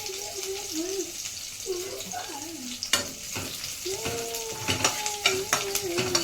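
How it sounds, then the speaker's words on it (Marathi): Green chillies with cumin and curry leaves frying in a pan for a Maharashtrian fasting dish, a steady sizzle with stirring scrapes and clatters, while a voice talks over much of it. "थोडं आपण मिरच्या पण फ्राय करून घेऊ."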